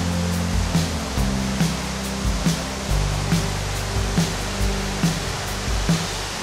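Floodwater from a swollen river at the Olentangy Wetlands in Columbus, Ohio rushes in a loud, constant roar close by, with regular low buffeting thumps of wind against the microphone and no voices.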